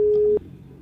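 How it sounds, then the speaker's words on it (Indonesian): A telephone call tone plays as one steady beep lasting about a third of a second, then stops, leaving faint room noise and a brief click at the end. "Coba aku telepon Dinda deh"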